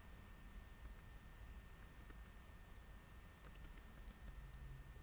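Light, quiet keystrokes on a computer keyboard arrive in short irregular bursts, with a quicker cluster of clicks near the end, against a faint background and with no speech.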